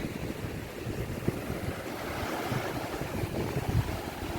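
Steady surf washes ashore at Wandoor Beach in the Andaman Islands, a continuous broad rush of waves mixed with wind buffeting the microphone, with no talk.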